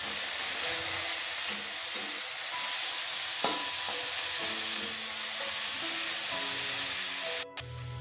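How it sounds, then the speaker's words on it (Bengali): Bottle gourd peel fries with turmeric and salt in a pan, giving a steady close sizzle and hiss broken by a few sharp stirring clinks and scrapes. "দিয়ে দেব হলুদ ও লবণ, আবারও খুব ভালোভাবে ভেজে নেব।"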